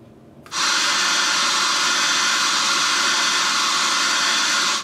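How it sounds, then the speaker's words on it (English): A steady, loud blow dryer roar starts abruptly after a brief quiet moment and runs on evenly as a constant broadband whoosh, melting ice in a frozen pool basin. "I managed to use the blow dryer to get most of it to melt out"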